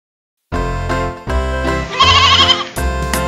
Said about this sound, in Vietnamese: Mary có một chú cừu con, chú cừu con, chú cừu con.